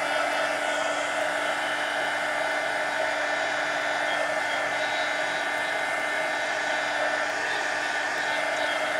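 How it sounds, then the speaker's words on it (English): A heat gun blows a steady, loud, even hiss and whir while drying black paint on a mixed media collage mask, continuous and close with no talking. "let me grab my heat gun here and just kind of carefully, I don't want to melt this"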